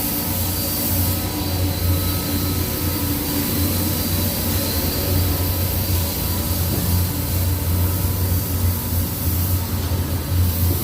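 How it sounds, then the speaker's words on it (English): Engines of Disney's Liberty Belle sternwheeler riverboat give a steady, continuous mechanical whirring drone with a low hum, close and unchanging throughout, no talk. "So these are actual engines that are pumping the Sternwheeler back there."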